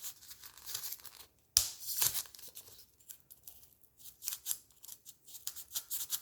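Scissors snipping through material while cutting out a handmade Christmas tree ornament, a quiet run of close crisp cuts with a louder sharp burst partway through.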